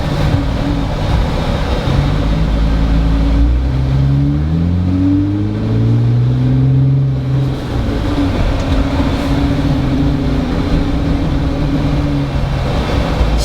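A Jeep Wrangler JL fitted with a throttle controller revs hard while accelerating from a crawl to about 30 mph, a loud, droning engine note rising and shifting in pitch, heard from inside the vehicle with no talk.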